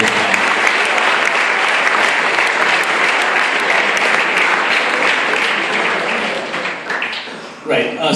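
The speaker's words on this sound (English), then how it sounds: "I think they deserve a big round of applause." Loud, sustained applause from an audience at an inter-school Shakespeare drama competition, dense clapping holding steady for several seconds before thinning out near the end.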